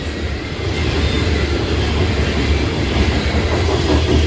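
A CSX freight train led by a rebuilt CM44AH locomotive, with an SD70MACe trailing, rumbles past close by in a loud, steady roar of rolling wagons and wheel clatter on a cold day.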